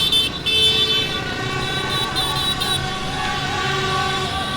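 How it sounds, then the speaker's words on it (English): Busy Saigon city street traffic in Ho Chi Minh City, a steady roar of cars, trucks and motorbikes with honking horns cutting through close by, continuous and loud. "Try to get through this traffic."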